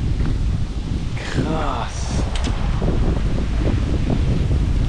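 Strong wind buffets the microphone on an island, a constant loud roaring rush with rustling, while a person speaks briefly partway through.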